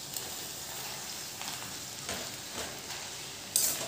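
Fenugreek leaves fry in a pan over high heat with a soft, steady sizzle, broken by a few faint stirring scrapes and a brighter clatter near the end.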